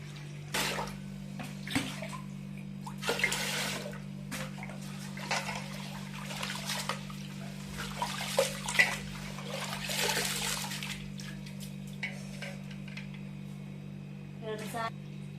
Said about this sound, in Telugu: ఇప్పుడు మనం కొంచెం దీంట్లో వాటర్ పోసి నాననివ్వాలండి